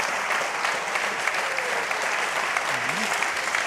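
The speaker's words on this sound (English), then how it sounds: "More applause." Steady, close applause from a lecture audience, an even wash of clapping hands running throughout with a brief voice murmuring underneath near the end.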